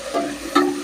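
Onion and curry leaves fry in a hot pan, a close, fairly loud sizzle with a stir-like swell near the start and another midway through a brief moment.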